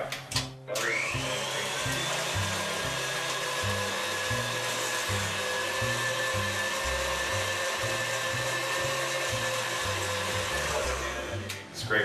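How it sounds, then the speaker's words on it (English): An electric mixer whips cream cheese cupcake frosting in a kitchen, a loud, steady motor whine that runs nonstop at close range, its pitch stepping and wavering as the beaters work through the mix. "Scrape the sides, make sure it's all blending in together and not partially stuck."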